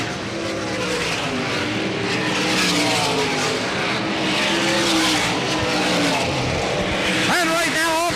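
Sprint cars roar through lap traffic at Selinsgrove Speedway in 1988, a loud continuous blend of several racing engines with rising and falling pitch as cars pass, and an announcer talking over the din.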